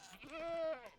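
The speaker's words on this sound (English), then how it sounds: "Oh, a goat farm." A goat on a goat farm below a snowy mountain in a video game gives one drawn-out, wavering bleat at low volume, alone with no talk.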